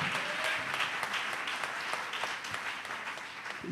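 A church congregation applauds the Lord, the steady, dense clapping sustained throughout at a fairly constant level.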